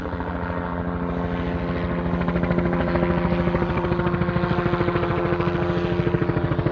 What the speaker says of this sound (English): And here comes our helicopter, the one on the previous video.